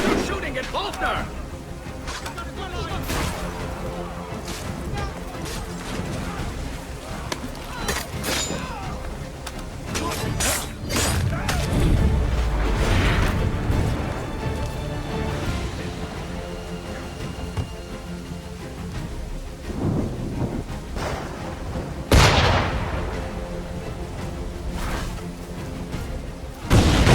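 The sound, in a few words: sniper gunfire in video game Assassin's Creed 3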